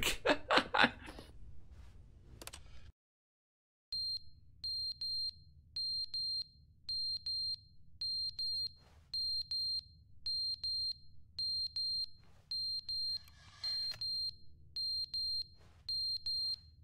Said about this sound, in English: intruder alert or something. It's not your fire alarm, guys, don't worry. It's this thing.